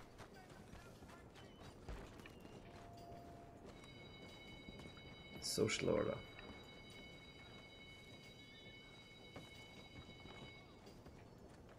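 Horse hooves clop in the Red Dead Redemption game, faint and light under ambient game sounds, with a louder burst of clattering activity midway and brief spoken lines from a game character.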